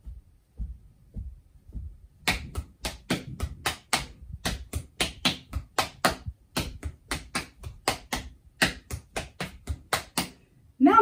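Hambone body percussion, hands slapping chest and thighs in a fast, steady, syncopated pattern of sharp claps and thumps, starting with a few soft taps before the full rhythm kicks in, close and alone.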